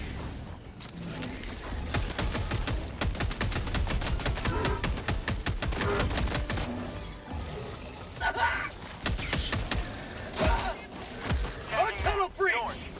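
Rapid bursts of automatic gunfire from a Maxim-style gun with a new magazine in Helldivers 2, played on Helldive difficulty 9, hammering loudly and steadily for several seconds among other battle noise, with voices talking over it.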